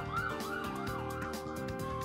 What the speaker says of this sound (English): an ambulance is gonna pass by soon.